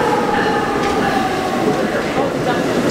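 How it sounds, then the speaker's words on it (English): A passenger train pulls into the station, a loud continuous rumble with squealing wheels and rail noise close by, filling the scene with no clear speech on top. "Our train's here."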